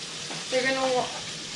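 Shrimp sizzle and fry in a pan, a soft, brief crackle that swells for a moment and then settles, with no talking.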